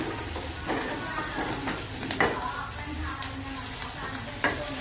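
Chopped onions with salt sizzle steadily in a pan, a close, continuous frying hiss with occasional scraping stirs and no voices.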